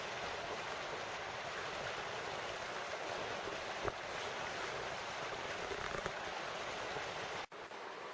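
Laurel Creek flows beside the Appalachian Trail on the way to Laurel Falls, a constant broadband rush of water, steady and close, with no voices.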